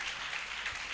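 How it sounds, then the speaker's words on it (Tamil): A church congregation claps together during Tamil Sunday worship, a dense, steady patter of many hands held at an even level throughout. "Big clap. கரகோஷங்களை எழுப்பி"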